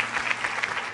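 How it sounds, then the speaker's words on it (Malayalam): Applause from a studio audience for a young contestant on a children's singing competition show, a dense, steady patter of many hands clapping, fairly close and sustained with no voices on top. "ഒരു പ്രാവശ്യം കൂടി മോനെ വലിയൊരു കയ്യടി."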